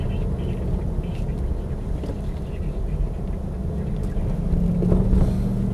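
Triumph Stag with automatic gearbox, starting on the button and idling steadily with no misfiring, a continuous low engine rumble close by, slightly swelling toward the end, with no talk over it.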